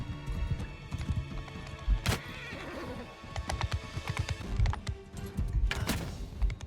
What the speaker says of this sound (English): There's the horse again.